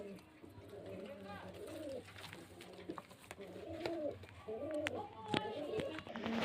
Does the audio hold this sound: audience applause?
no